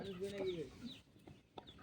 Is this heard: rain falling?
no